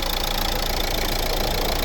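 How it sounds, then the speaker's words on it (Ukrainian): A 2012 Renault Scenic III's 1.5 dCi K9K diesel engine idles with the bonnet open, giving a steady, even clatter and hum that is close and continuous, with no voices. "Ось робота двигуна. Рівно тихо працює."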